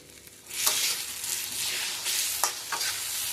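Curry being stirred and sautéed in a hot pan, steady sizzling with a few scraping spoon strokes, close and without talk.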